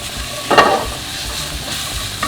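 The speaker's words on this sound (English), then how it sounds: "Just saute the garlic" Garlic sautéing in a pan with turkey bacon and sweet peppers, a steady close sizzle with a brief louder burst of stirring and scraping in the middle.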